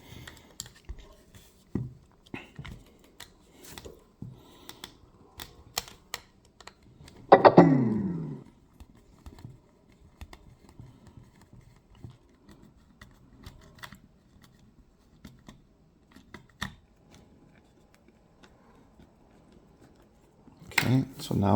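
Small scattered clicks and scrapes from a screwdriver backing out screws on a JBL Charge 3 Bluetooth speaker during a battery replacement, close and fairly quiet, with someone talking over most of it.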